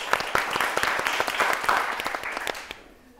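Audience applause in a hall during a quiz show about a very bright child, with dense, steady hand-clapping that fades out near the end.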